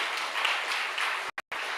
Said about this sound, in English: you can give a good applause